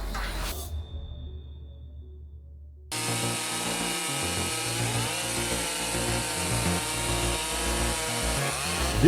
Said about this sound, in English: This is an intense competition between two machines, the Style MS 651 chainsaw and the Style MS 382.